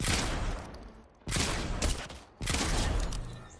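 Sustained bursts of rapid gunfire in a Level Up quest-pack video game, loud and dense, in three long volleys separated by brief near-silent gaps.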